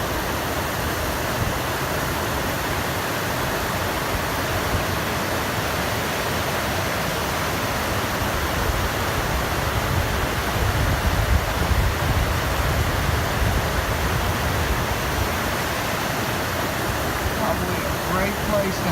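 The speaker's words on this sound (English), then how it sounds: "It's called 20 Mile Cascades." Steady broadband rush of 20 Mile Cascades, a waterfall and stream near Gregory Bald in spring, tumbling water heard up close and continuous without a break, loud and even throughout.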